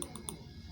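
Crisp computer keyboard and mouse clicks in InDesign, a few quick taps close together at the start, then a quieter stretch and a final click, with no talking.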